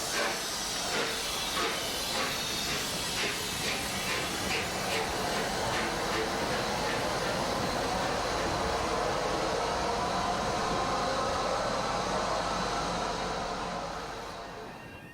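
Clan Line, a big steam locomotive, reverses over an ungated road crossing, giving a loud, continuous hissing roar with rhythmic chuffing pulses that fades slightly at the end. A voice talks over it.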